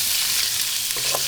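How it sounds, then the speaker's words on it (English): Sausage meat sizzles and fries steadily in a hot pan as it is broken up, with a few soft scraping stirs over a continuous frying hiss and no talking. "we start to break all the sausage now"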